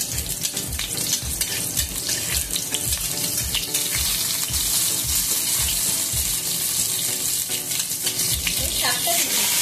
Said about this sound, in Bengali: এই তেলে 1 চামচ কালো জিরে দেব, একটা কাঁচা লঙ্কা দেব